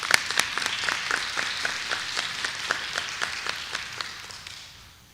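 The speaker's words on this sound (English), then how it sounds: "give a big round of applause." A small crowd applauds at a school board of education meeting, moderate clapping with distinct individual claps audible, holding steady for a few seconds before fading out.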